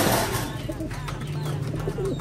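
Pigeons cooing in a loft, low soft coos repeating close by against a steady background hum.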